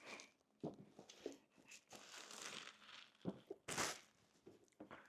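Cardboard packaging for an Anker Nebula Cosmos Laser 4K projector is opened, giving quiet crinkling, rustling and short tearing scrapes in irregular bursts, close by with no talking.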